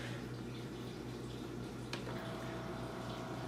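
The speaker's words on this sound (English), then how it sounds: "You can hear it pouring, but it's not a very loud brewer." A Keurig K-Elite coffee maker brewing a 12-ounce cup, with a steady low hum and a soft trickle of coffee pouring into the cup, fairly quiet and continuous with a brief click partway through.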